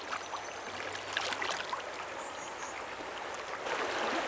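Trout river flowing steadily with a soft, continuous wash of moving water and faint splashy texture, fairly close and without voices.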